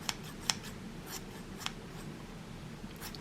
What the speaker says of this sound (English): we can trim off all the extra bits to make it fluffier if you want to.